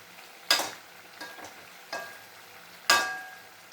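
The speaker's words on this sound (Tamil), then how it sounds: "ஸ்லோவில் வச்சு நல்லா வதக்கிட்டே இருந்தால்" Grated turkey berries sautéed slowly in a pan, with a spoon scraping and stirring in about four distinct strokes over a soft, faint sizzle.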